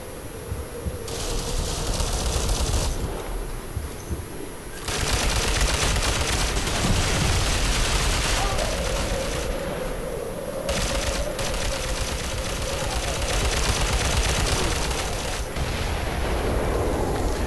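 Rifle gunfire in the online shooter Ghost Recon Online on the Chertanova LZ map, with sustained rapid bursts of automatic fire that are loud and close and run almost continuously, pausing only briefly between volleys, with no talking.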